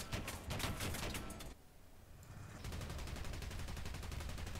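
Rapid machine gun fire in War Thunder, dense rattling bursts with a short pause, then a long steady stream of shots, close and punchy with a low rumbling tail.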